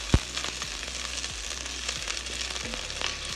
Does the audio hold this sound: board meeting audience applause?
no